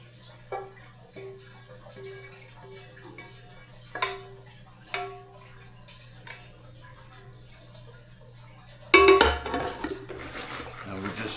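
A spoon knocks and scrapes inside a pot as homemade stuffing is mixed, with sparse clinks spread out before a louder burst of rustling stirring near the end, over a low background hum.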